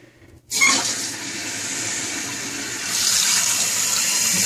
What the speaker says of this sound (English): Water's flowing in.